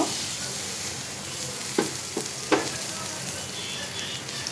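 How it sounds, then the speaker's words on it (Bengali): Onion, garlic and chillies fry in a little oil in a kadai, giving a dense, even sizzle close by, with a few sharp utensil clinks partway through. "এই কড়াইতে আমি বাগার দেওয়ার জন্য পেঁয়াজ রসুন আর পাঁচ চার পাঁচটা মরিচ নিয়ে নিয়েছি আর হালকা তেল দিয়ে দিব"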